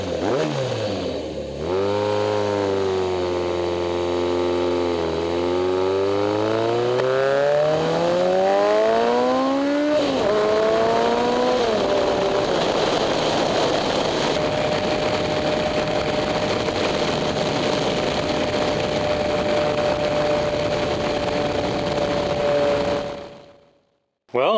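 A Suzuki GS850 motorcycle engine climbs through the gears with rising and falling revs, then settles into a steady cruising drone with wind noise, loud and close throughout.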